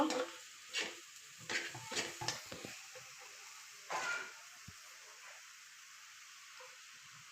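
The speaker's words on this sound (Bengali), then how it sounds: "এখন আমি এর ভিতরে দিয়ে দেব নারকেল এগুলো আমি একসাথে ভালো করে নাড়াচাড়া করে নেব নাড়তেই থাকবো" Coconut is stirred into boiling sugar syrup in a pan: a few scraping, clinking strokes of a utensil against the metal come close together, then quieter pauses with an occasional scrape over a faint simmer.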